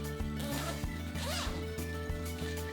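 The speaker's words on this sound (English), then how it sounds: "And you're able to unzip this" A Knack travel and work bag is unzipped, a zipper pull dragging along its track in a short, quiet rasp against a steady low hum.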